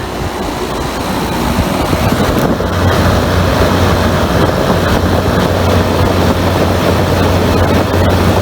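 The outdoor side of a GE window air conditioner runs its fan loudly, a steady broad whoosh with a low hum that holds for several seconds, close to the microphone.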